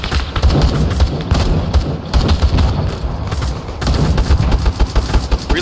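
Automatic gunfire in an Arma 3 ambush on a fortified enemy position, loud and close, with rapid sustained bursts broken by short pauses and a few heavier thuds mixed in.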